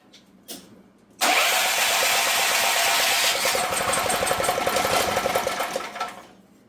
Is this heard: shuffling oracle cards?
no